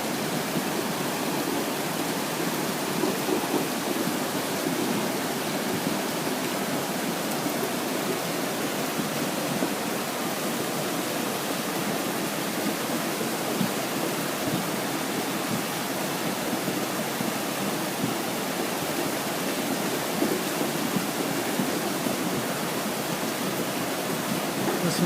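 Steady, full-band roar of a flash flood rushing through a desert wash, running continuously at a constant level with no distinct knocks of rocks picked out from the wash of water.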